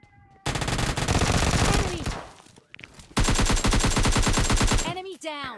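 An Uzi fires in a shooter video game in two long, rapid automatic bursts, loud and close, with a brief pause between them and a few game effect sounds at the end.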